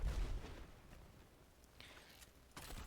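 Bomblets from the Kuva Bramma bow detonate in midair in the Warframe video game, giving a dull low boom at the start, a faint rumbling tail, and a second muffled burst near the end, with no voices.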